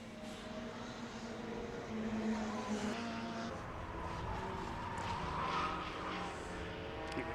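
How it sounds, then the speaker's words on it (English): Classic racing cars, including an Anglia and a BMW, run on track at Donington Park, with a continuous layered engine drone rising and falling as cars pass at a distance. "Watching the Williams Anglia through the chicane."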